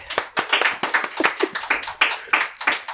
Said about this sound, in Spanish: Bueno, un aplauso para Calé.